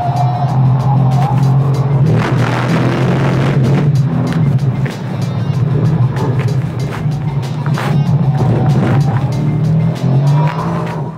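A rear-wheel-drive Mercedes C63 corners hard. A loud, steady engine drone runs throughout, with tires squealing and skidding as the car pushes through the turns.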